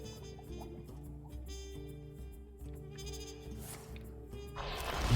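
A goat bleat effect from the card game Hearthstone sounds as a wavering, tonal cry over the game's background music, with a burst of brighter effects at the end.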